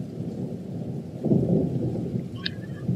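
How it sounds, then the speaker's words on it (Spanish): Steady rain pouring down in Kerala, South India, with a low rumble of thunder rolling in partway through, close and enveloping, a faint bird chirp near the end. "La lluvia comienza. Con las gotas están cayendo uno a uno."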